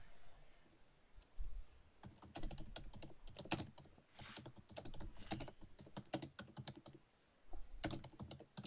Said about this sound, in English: Well, I'm typing.